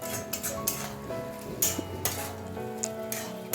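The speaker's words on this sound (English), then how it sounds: "Keep stirring and stirring." Grated carrots with ghee and sugar for gajar ka halwa are stirred in a pan, giving a soft steady sizzle broken by scraping spoon strokes and light clinks against the metal.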